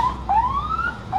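An emergency vehicle siren sounds at a red light in traffic, a loud, close wail that sweeps upward in pitch and then starts a new rising cycle.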